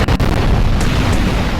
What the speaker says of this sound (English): Massive explosions.